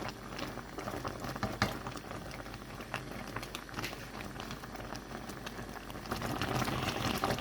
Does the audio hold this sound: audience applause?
no